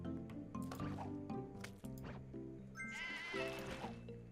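Cartoonish sheep bleats from the puzzle game Divide by Sheep repeat over squishy, liquid game effects and chiming music, fairly busy and up close throughout.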